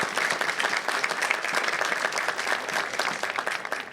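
An audience at a university commencement ceremony applauds honorary doctorate recipients with dense, loud, continuous clapping that holds steady for several seconds.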